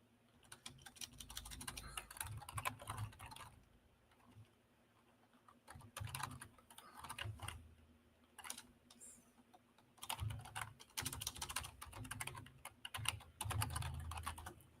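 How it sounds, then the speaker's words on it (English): Bursts of rapid clicking keystrokes on a computer keyboard, close and fairly loud, with short pauses between flurries of typing. "Is my keyboard too loud?"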